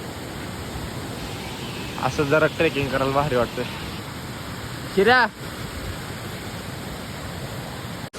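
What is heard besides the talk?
waterfall flowing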